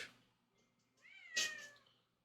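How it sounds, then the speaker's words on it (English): A pet cat meows clearly at close range, a single drawn-out call with a rising and falling pitch, preceded by faint softer mewing sounds in an otherwise quiet room. "That's my cat."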